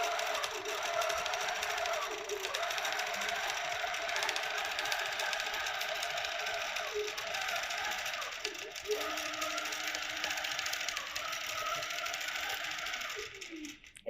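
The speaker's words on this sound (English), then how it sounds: "it's stitching right on those marked points that we made earlier" A QCT6 Plus quilting machine stitches along marked points on a quilt block. Its steady, close mechanical hum and rapid needle chatter run unbroken for the whole stretch, easing slightly near the end.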